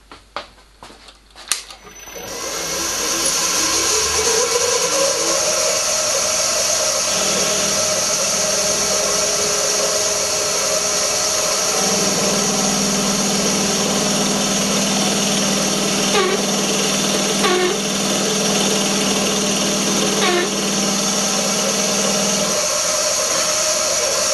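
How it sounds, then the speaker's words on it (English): A router bit held in a milling machine plunges into wood and cuts a mortise slot, a loud steady high-pitched motor whine running continuously with shifts in tone as the bit cuts, alone without talk. "Here I'm using an ordinary router bit. Just plunge and then slot."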